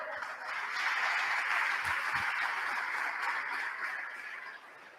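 A church congregation claps together in a steady wash of applause that swells, holds for a few seconds and then fades, heard at a moderate distance with no voices over it.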